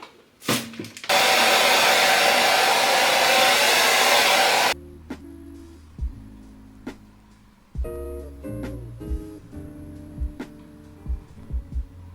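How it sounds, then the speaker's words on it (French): A hair dryer blows loudly and steadily for a few seconds, then switches off, leaving quieter clinks and handling sounds. "je vais encore passer un coup de sèche-cheveux"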